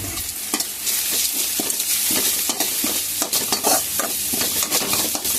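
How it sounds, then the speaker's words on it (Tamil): Onions sauté with turmeric in a hot pan for a dry fish curry, giving a loud steady sizzle broken by repeated scraping stirs of a spoon, with no voices. "மஞ்சள்தூள் போட்டு நல்லா வதக்கி எடுக்கோங்க"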